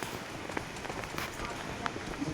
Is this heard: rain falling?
yes